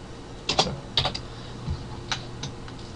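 Code for a BBC BASIC program is typed on a computer keyboard in short close bursts of crisp key clicks with small gaps between them, and no talking.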